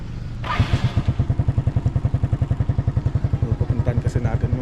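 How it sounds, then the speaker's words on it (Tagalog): A wife's motorcycle idles close by on a farm, giving a loud, even chugging pulse of rapid regular beats that runs throughout. A brief voice comes in near the start. "Ito yung motor ni Mrs."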